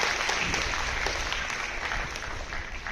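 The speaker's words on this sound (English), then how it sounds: "Big round of applause." Applause from an audience at a school program in Kolar, a brief, even wash of clapping that eases slightly toward the end.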